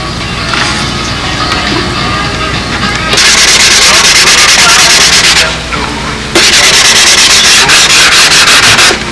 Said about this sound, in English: The last step here, totally blend that edge in, do the final sanding around the end.